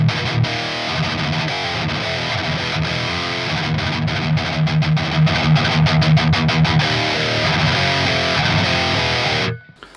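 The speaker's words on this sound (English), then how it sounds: "so let's switch back to the distortion" A high-gain distorted electric guitar played through a Driftwood Purple Nightmare metal amplifier with a tube screamer boost churns out loud chugging riffs and fast palm-muted bursts, then cuts abruptly to near silence.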